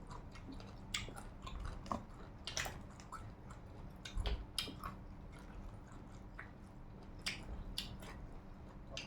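Close-up chewing of a roasted pig ear, with repeated crunchy bites and wet squishing at an uneven rhythm, fairly quiet and alone with no speech.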